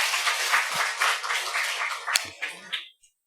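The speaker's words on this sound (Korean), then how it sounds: "말씀 주신 하나님께 먼저 박수를 쳐주세요" Congregation applause during a Sunday sermon at a Seoul church, a burst of dense clapping from many hands that holds for about two and a half seconds and then tapers off quickly into silence.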